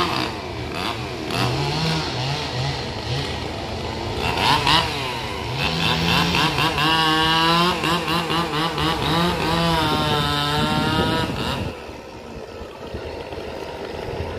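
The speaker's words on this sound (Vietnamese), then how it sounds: "đang cưa cái phần gốc ở khúc giữa" A chainsaw runs continuously nearby, its motor whining and rising as it cuts through the base of a large Sao tree trunk, with the pitch shifting under load throughout.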